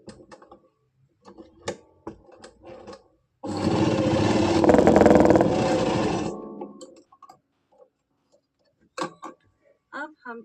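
A sewing machine runs one continuous burst of about three seconds, double-stitching kameez fabric. Scattered ticks and clicks of handling come before and after the run.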